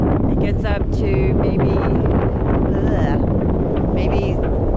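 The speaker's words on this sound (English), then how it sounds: "so we're out here anchored, and it's quite windy" Strong wind roars and buffets the microphone continuously aboard a sailboat anchored on the ICW, with water and rigging noise around it and a voice speaking intermittently beneath it.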